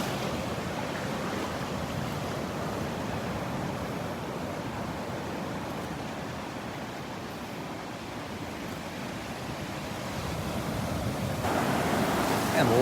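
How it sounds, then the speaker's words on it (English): Ocean waves surging and washing onto a beach at Delnor-Wiggins, a continuous broad roar of surf with light wind, steady and moderately near, no voices. "And loving the waves here,"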